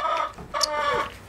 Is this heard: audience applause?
no